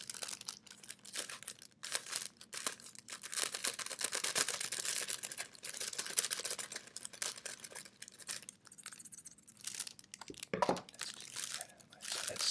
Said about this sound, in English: That's cellophane.